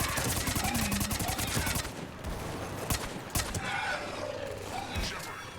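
Gunfire rattles through a shootout in the video game Mass Effect 3, with rapid automatic bursts at the start followed by scattered single shots, quite loud, mixed with game effects.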